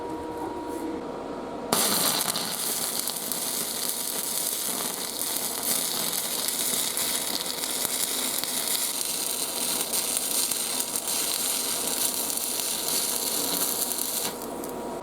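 Overhead stick welding with rods on steel plate during a steel boat refit: a loud, steady crackling sizzle starts abruptly and runs close up for most of the clip, then stops near the end.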